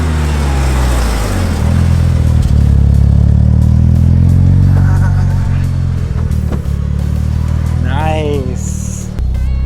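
A 430 hp Mitsubishi Lancer Evolution 9 idles and revs loudly nearby, a deep steady exhaust rumble with a brief rise in pitch, while people talk over it.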